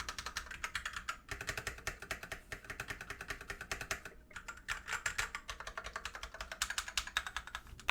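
Rapid, steady typing on a stock CIY X77 TKL mechanical keyboard, many clacky keystrokes in quick succession with a couple of brief pauses, close up and alone.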